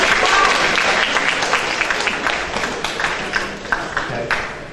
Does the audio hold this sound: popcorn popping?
no